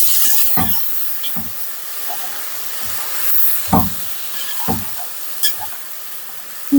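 Fava beans hit a hot pan with onion and fry, giving a low sizzle broken by scattered crackles and scraping stirring sounds at irregular moments, close by and with no talking.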